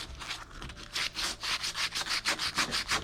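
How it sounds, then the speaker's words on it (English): Sandpaper rubbing a small wooden wedge for an OcCre Polaris model ship kit, a close, rhythmic series of rasping back-and-forth strokes that speed up into a steady scratching pattern. "sanding down, and just keep trying it"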